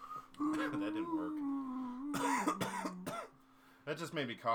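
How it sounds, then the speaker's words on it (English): A few coughs from a person during a live retro sports gaming stream, short bursts breaking through sustained tonal humming or droning vocal sounds, fairly faint overall. "That just made me cough."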